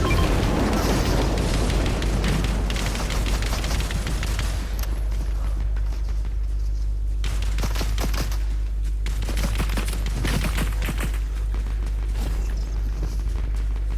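Rapid automatic gunfire rattles in a Fortnite match, sustained bursts of shots with heavier booms mixed in and a steady low hum underneath, fairly loud and close throughout.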